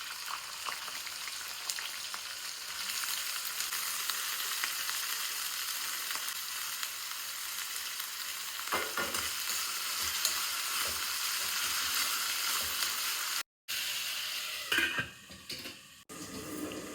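Bommidi fish frying in oil in a pan for a tomato curry, a steady close sizzle running throughout with brief stirring clatter and a short dropout near the end.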